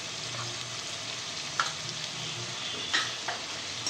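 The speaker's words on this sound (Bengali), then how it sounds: "ভালো করে কষিয়ে নেব" Pointed gourd and shrimp sauté in a pan with melon seed and poppy paste, giving a continuous soft sizzle and frying hiss with a few faint stirring clicks, no voices.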